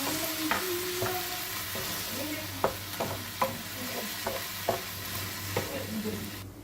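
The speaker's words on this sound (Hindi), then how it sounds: "चावल यहाँ पर आहिस्ता आहिस्ता पक रहे हैं" Rice with tomatoes and water cooking in a pot gives a steady low sizzle and bubbling, with occasional spoon clinks and stirring taps against the pot, close and quiet, no voices.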